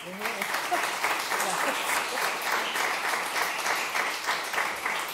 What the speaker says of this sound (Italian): vorrei venisse salutata da un applauso